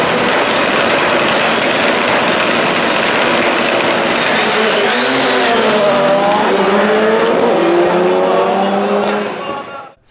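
Race car held on launch control, its engine loud and sustained with shifting pitch, tires squealing and a voice talking over it, before the sound cuts off sharply at the end.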